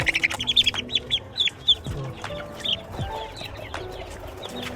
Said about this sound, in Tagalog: Ito yung mga Rhode Island namin na 1 month old pa lang.